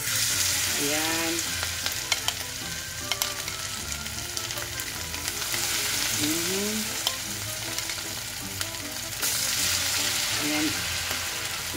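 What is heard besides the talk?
anchovy fritters (tortang dilis) frying in pan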